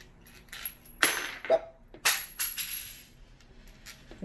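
Metal screws dropped while fitting a car jack point, landing in a few separate clinking impacts that scatter and rattle briefly, close by, with no talking.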